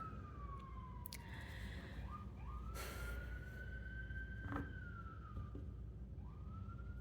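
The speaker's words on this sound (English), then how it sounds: "Sorry about the sirens, guys." An emergency siren wails in a long rising and falling tone, moderately distant, over steady low traffic rumble, with no talking.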